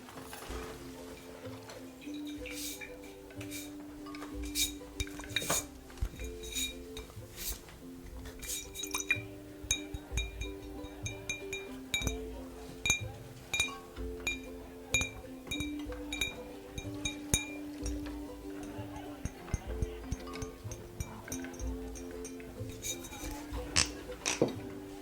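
A glass bottle of Broomfield Ale is fetched in a tavern setting, with soft scattered clinks and taps of glass over a quiet, steady low hum, close and gentle.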